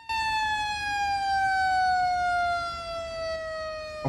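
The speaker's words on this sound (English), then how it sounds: "if I enable the siren, a new siren sound" A new police siren in the BeamNG.drive video game, a loud, clean electronic wail that holds a single tone slowly sliding downward across the whole stretch, alone without talk.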